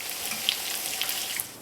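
Zucchini blossom fritters fry in a very hot pan: a soft, even crackle and sizzle with faint pops, heard alone.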